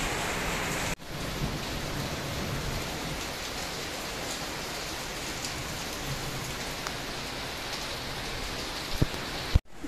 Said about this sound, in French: il y a une pluie depuis 7 h. Une grande pluie.